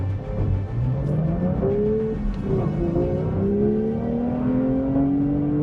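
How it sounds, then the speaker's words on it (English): A Porsche 911 GT3 Touring engine revs up loudly and close, its pitch climbing in repeated rising sweeps with brief dips between gear changes, with no talking. "This is a Porsche"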